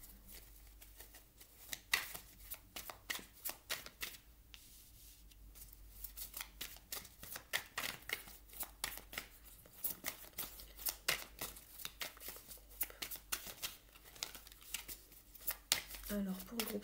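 Tarot cards being shuffled and laid out, a run of crisp riffling flicks, snaps and slaps close at hand in irregular bursts, with some talking around them.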